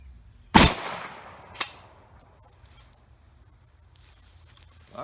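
A shotgun fires at a target outdoors, one sharp loud blast followed by a fainter report about a second later, then quiet field ambience with insects and a faint click at the end.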